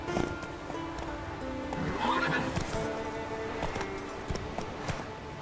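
Roach the horse in The Witcher 3 gives a clear whinny partway through, with rhythmic hoof clip-clops and galloping around it in the game's outdoor setting.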